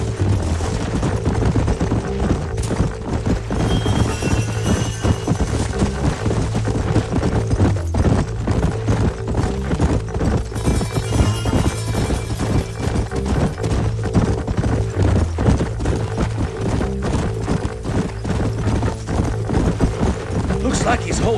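Horses ride in Red Dead Redemption on PC, hooves clip-clopping in a steady rhythm beneath game music, with gunfire bursts mixed in and voices talking over it.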